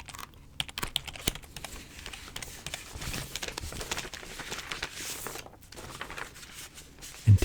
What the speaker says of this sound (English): He hands you the files and you flick through the paper